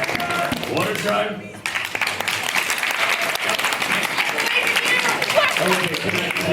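A live audience voting by applause for Guzma, with sustained clapping and cheering through the whole stretch, mixed with shouting voices over the noise.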